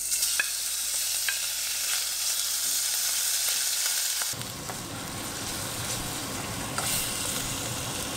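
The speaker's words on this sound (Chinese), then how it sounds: "把这个 bacon 放进去，煎到你喜欢的程度就可以" Bacon fries in a pan with a continuous close sizzle and crackle and occasional sharp pops, and the sound grows fuller and noisier about halfway through.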